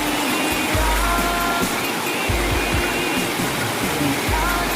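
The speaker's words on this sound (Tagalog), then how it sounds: "So, yung Tagbibinta Falls po ang tawag dito." Tagbibinta Falls in Davao de Oro pours with a steady, full broadband roar of clear water, continuous and close, with occasional low rumbling bumps beneath the rush.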